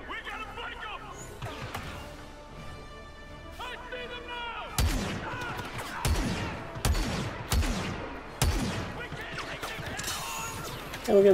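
Blaster and gunfire in a Star Wars shooter game, several sharp loud bangs spaced a second or so apart over a busy backdrop of effects and music.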